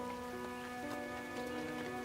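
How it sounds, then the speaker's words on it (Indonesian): Rain pouring in a small-village storm with wind, a continuous soft hiss of drops on surfaces over a faint steady hum, distant and fairly quiet. "Hujan dan angin semakin kencang berkolaborasi menjadi badai yang kecil menghantam desa."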